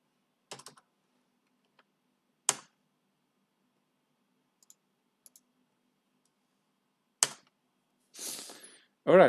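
A computer keyboard gives short, sparse bursts of typing while commands are entered, with a few isolated key clicks between them, close and quiet. Brief voice sounds come near the end.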